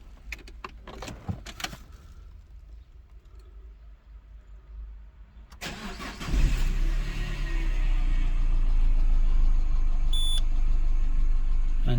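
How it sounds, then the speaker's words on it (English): A Peugeot 207cc engine starts up partway through and settles into a loud, steady idle with a rough low rumble, after quieter mechanical clicks and handling noises; its anti-pollution system is faulty. "fire up, and it is idling under its own steam, albeit not brilliantly."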